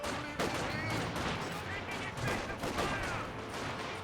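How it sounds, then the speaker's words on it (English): Rapid bursts of flak-gun fire crackle through a one-on-one video game tournament semi-final, a dense stream of shots with explosive echoes and a commentator talking over the action. "Sidewinder has really made good use of this SDK flak gun, for sure."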